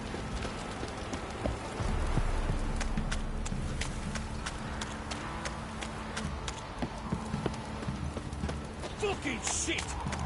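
Horse hooves clop steadily in a video game, a rapid, even patter of hoofbeats at moderate loudness beneath a voice talking at times.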